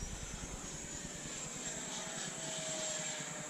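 A Freewing T-45 Goshawk 90mm electric ducted-fan RC jet flies overhead, giving a steady, distant whooshing whine with a faint rising tone that holds throughout, alone without talk.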